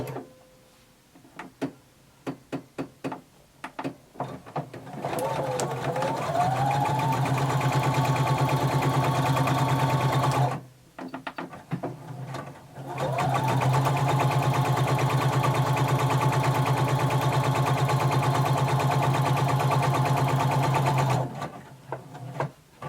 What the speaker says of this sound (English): We're going to stop sewing there.